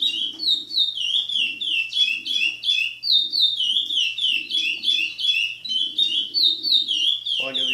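A caged curió, or chestnut-bellied seed finch, sings repeated bright whistled phrases in close, loud bursts separated by short gaps, while a faint low hum runs underneath.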